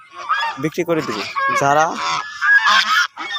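A flock of ducks heading home at evening honks and quacks in a rapid, close, overlapping chorus while someone talks over them.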